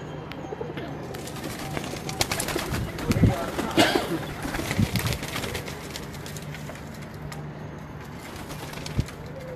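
Pigeons coo on a fancier's rooftop, soft throaty calls rising and falling amid clicks, rustles and a few wingbeat-like bursts, with people speaking intermittently nearby.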